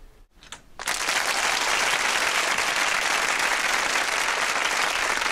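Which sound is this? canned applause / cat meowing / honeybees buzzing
canned applause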